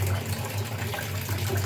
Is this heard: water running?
yes